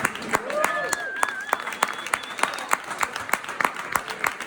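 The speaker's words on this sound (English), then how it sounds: "Thank you for that clap." An audience at a political arts rally claps in a quick, regular rhythm of crisp strikes, moderately loud, while a speaker's voice carries over the top.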